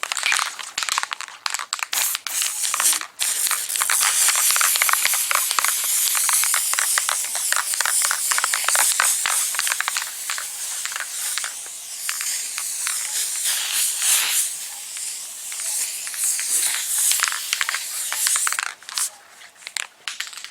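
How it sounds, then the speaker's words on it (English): An aerosol can of spray adhesive sprays in long continuous hissing bursts onto a dashboard pad and fleece, close and steady, with brief pauses and some crinkling handling noises in between. "I spray the pad, also the fleece."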